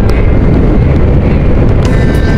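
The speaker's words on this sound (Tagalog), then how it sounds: "Malakas nga lang ang hangin." Strong wind buffets the microphone during a motorcycle ride, a loud, steady roaring rush that fills the whole clip with no talk over it.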